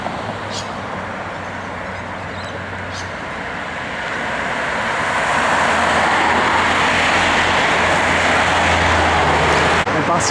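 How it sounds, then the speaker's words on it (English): City bus driving into the O-Bahn busway amid roadway traffic, a broad engine and tyre rumble that swells louder as it nears, with voices faintly audible early on. "Bus from the city going into the O-Bahn."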